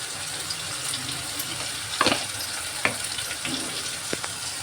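A pan of chicken masala with tomato, salt and turmeric being stirred, giving a soft continuous sizzle with a few sharper scrapes and clicks of the spoon against the pan.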